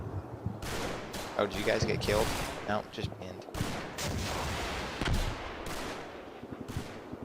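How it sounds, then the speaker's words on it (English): Gunfire from the Combat Mission: Battle for Normandy game, set at Neuville au Plain in WWII Normandy, with bursts and sharp reports cracking repeatedly throughout while players talk over it. "So this is a machine gun?"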